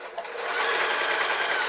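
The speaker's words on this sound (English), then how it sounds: "I'm just going to do a row of stitches." A sewing machine runs a row of stitches along a bag seam, a continuous fast rattling whir, close and steady.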